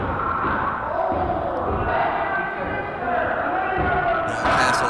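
A wrestling crowd chanting a pin count in an arena, a dense roar of massed voices at a steady level with rhythmic rises and a few thuds from the ring, as an announcer talks over it.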